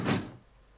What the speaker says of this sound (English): the way the door is making sounds is just shit